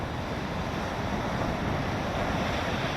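Ocean waves at Myrtle Beach make a continuous, loud rush of surf, with wind buffeting the microphone throughout and no voices.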